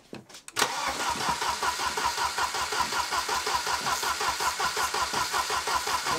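A car engine cranks briefly with a couple of sputters, then catches and settles into an even, throbbing idle, close and steady for several seconds with no voices.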